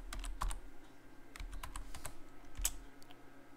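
A computer keyboard clicks in quick, uneven keystrokes as a short password goes in, each press crisp and close against a quiet room.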